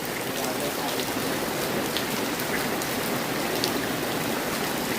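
Heavy rain pours down where ducks are out in the downpour, a dense, even roar of falling water that never lets up.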